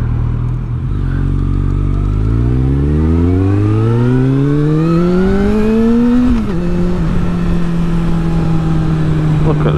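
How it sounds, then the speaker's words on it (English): Road traffic heard from a motorcycle while riding, the engine's pitch rising steadily through the gears before a brief drop and a steady cruise, loud and close throughout. "Look at this bloody traffic."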